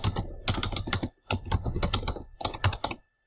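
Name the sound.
typing a file name on a computer keyboard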